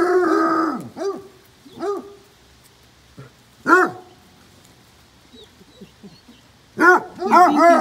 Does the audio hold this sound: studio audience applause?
no